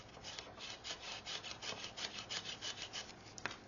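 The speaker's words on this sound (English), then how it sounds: "Give it a good burnishing" A paper fold on a scrapbook gift box is burnished with rapid, repeated rubbing strokes, a soft dry scraping heard up close at low volume.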